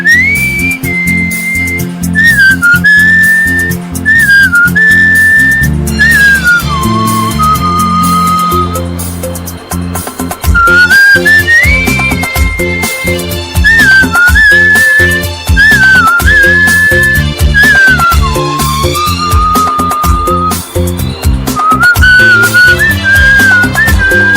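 A father and son performing whistling, a loud, clear whistled melody with sliding and held notes running continuously over a rhythmic musical accompaniment, with no speech.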